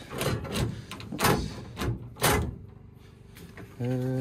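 A workshop drawer is pulled open and rummaged for feeler gauges, producing several sharp clattering bursts of metal contents, with a steady hum entering near the end.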